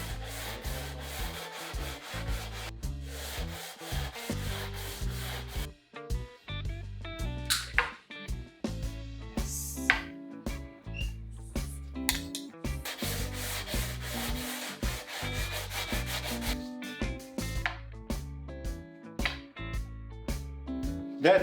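A wooden electric guitar fretboard being sanded by hand with coarse 40-grit sandpaper makes a close, rhythmic scrubbing. The back-and-forth strokes repeat steadily with a few brief pauses between passes.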